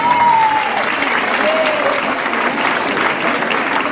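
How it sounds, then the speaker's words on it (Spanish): An audience at a children's party in Terrassa applauds a girl named Irene, a loud, dense, continuous round of clapping with a voice briefly over it. "Un fuerte aplauso para Irene."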